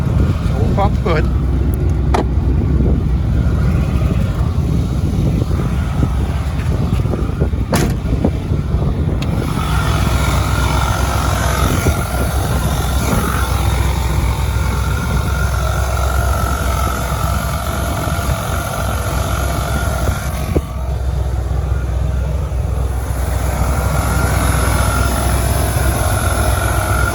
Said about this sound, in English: It's making like a whirring noise, but I'm not sure what it is. Could be the alternator.